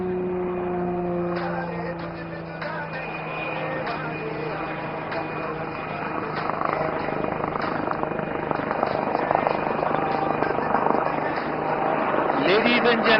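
A HAL Light Utility Helicopter flies a display at the Aero India air show in Yelahanka, its steady rotor drone and whine rising slightly as it nears, with an announcer talking over it throughout.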